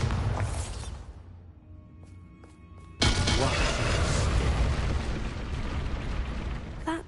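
The Bombarda spell explodes in Hogwarts Legacy: a loud, sudden blast cuts in after a quieter stretch and rumbles on for several seconds, following a burst of noise at the start.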